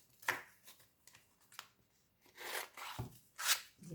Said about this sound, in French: Et je découpe des morceaux de feuilles.